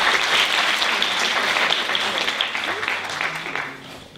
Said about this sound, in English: Give the sister a round of applause